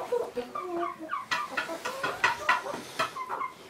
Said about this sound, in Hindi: तो अभी जी मुर्गे मैंने खोले हैं,